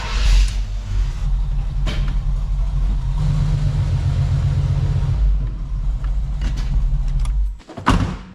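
Chevrolet C10 pickup truck idling and backing out, a low steady engine rumble with brief revs near the start and end, close and loud, then cutting off abruptly.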